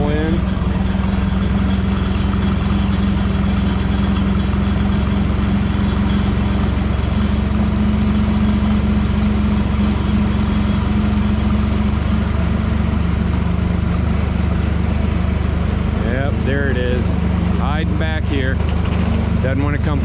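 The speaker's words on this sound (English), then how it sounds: "We got a red tractor and a green tractor waiting on us" Tractors idle at a farm meetup point, red and green machines giving off a steady low diesel rumble that holds throughout, with someone talking over it near the end.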